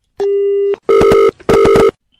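A phone call is placed and the line rings: a single steady tone, then two loud buzzing ring bursts with a short gap, close and clear with no talk.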